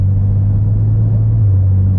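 A BMW fitted with a swapped dual-clutch (DCT) gearbox and a single-mass flywheel accelerates off a roundabout, giving a steady, loud low engine drone from inside the car that holds for two seconds with no talking.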